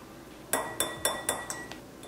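Spoon clinking against a bowl while dry spices like amchur powder, black pepper, salt and parsley flakes are stirred together, six bright, sharp taps in quick succession that fade toward the end, with no voices.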